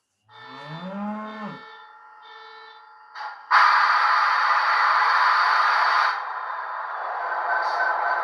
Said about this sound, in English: Of course, you hear it going through the startup sequence right there.